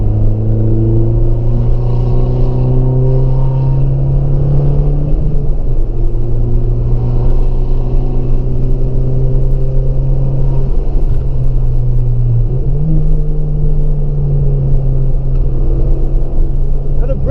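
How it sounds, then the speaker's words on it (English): A 2014 Fiat Abarth hot hatch drones steadily from inside the car while driving, its exhaust a deep continuous rumble with gear-change dips in pitch around mid-clip and later. "And I know you can hear this exhaust because this exhaust is absolutely amazing."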